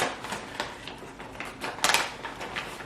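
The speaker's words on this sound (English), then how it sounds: "And so then I just take scissors" A series of short crisp snips and crunching cuts close by, irregular in rhythm, with a louder burst of cutting near the end.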